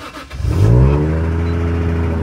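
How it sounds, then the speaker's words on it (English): A Toyota Chaser's engine cranks briefly, then catches and revs up loudly before settling into a steady, close-up idle hum. "So this is how I've been starting the car up."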